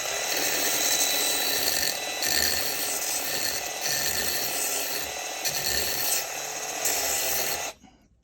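A band file sander fitted with 220 grit sandpaper grinds slowly and steadily along a chainsaw bar rail, a continuous close rasping hiss that cuts off abruptly at the end.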